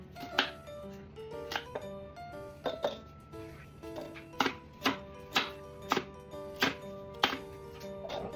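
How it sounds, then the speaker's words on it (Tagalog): Onion and carrots being chopped by hand for a ground-meat dish: close, sharp knife knocks on a board in an uneven run of single strikes, with faint background hum and no speech. "Magagrind lang din pala ako ng sibuyas at carrots tapos ilalagay ko na yan dyan sa giniling."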